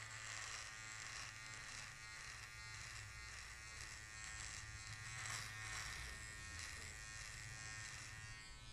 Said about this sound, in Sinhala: රවුල සම්පූර්ණයෙන්ම ට්‍රිමර් එකේ නෝට් එකෙන් කපලා අයින් කරමු